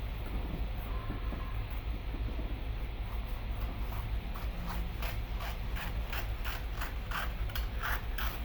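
Scissors snipping through folded parazo jumpsuit fabric, a steady run of short crisp cuts growing more regular toward the end, over a constant low background hum.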